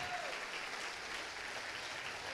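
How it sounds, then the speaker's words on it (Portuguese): A standing church congregation applauds together, a steady wash of clapping at moderate, slightly distant level with no break and no speech over it. "Vamos aplaudir ao Senhor."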